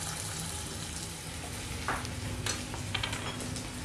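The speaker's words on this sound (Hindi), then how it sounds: "फ्लेम को लो करके अच्छी तरह से अदरक लहसुन को भूनना है हमें एक से दो मिनट।" Ginger garlic paste frying in hot oil with cinnamon, cloves and green cardamom over a low flame, a steady close sizzle with a few light stirring scrapes and no talking.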